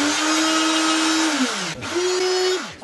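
A high-speed power tool routs a rosette trench about 1 millimetre deep into an acoustic guitar top, its loud steady whine dipping briefly as it spins down and then running up again, close with no voices.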